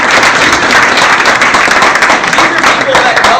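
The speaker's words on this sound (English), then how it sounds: "give them a round of applause," A large audience claps in sustained, dense applause, loud and continuous throughout, with a crowd murmur mixed in.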